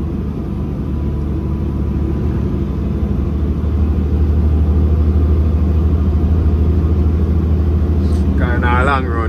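A Shacman F3000 truck with a 420 Cummins ISM engine and 12-speed gearbox, hauling 51 tons of gravel, gives a steady, loud low rumble throughout, with a brief higher whine near the end.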